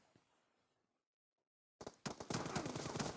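Gunfire in the PUBG video game: after a near-silent pause, a rapid automatic burst erupts, loud and close, with dense repeated shots continuing to the end.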